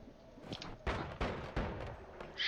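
Shotgun wand firing in the video game Noita, three sharp booming blasts about a third of a second apart, each with a short rumbling decay, over a faint background.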